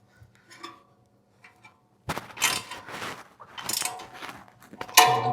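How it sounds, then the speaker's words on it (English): A bolt is tightened on a Cybertruck front bumper, heard as a ratcheting tool clicking in quick bursts after a few faint taps, close and fairly crisp. "So we're going to tighten the second screw here. Or second bolt, I should say."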